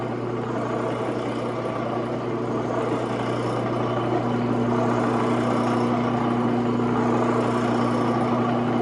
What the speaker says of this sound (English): let me turn that saw off so you can hear